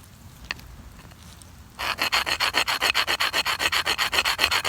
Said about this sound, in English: get your rock and just scrape